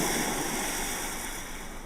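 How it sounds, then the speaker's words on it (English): Ocean waves from a sound effect in a Scratch project's boardwalk scene: a steady, full wash of surf that holds loud and even throughout, easing off only slightly toward the end, with no voices. "If I press B, it should go to the boardwalk and play the sound of the waves."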